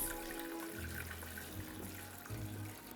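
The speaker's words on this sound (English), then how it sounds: "So we try to pour in all the juices." Pork roasting juices poured from a pan for a sauce while cooking crispy pork knuckle, a low, steady liquid trickle and splash heard close and soft throughout, with faint kitchen background.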